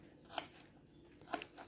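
Two crisp, quiet snips about a second apart, a knife slicing pork sausage or meatballs into pieces on a board.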